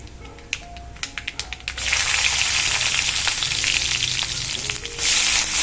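Garlic hits hot oil with sesame seeds for a breadfruit thoran: a few sharp clicks of utensils first, then a sudden loud, sustained close sizzle that swells again near the end.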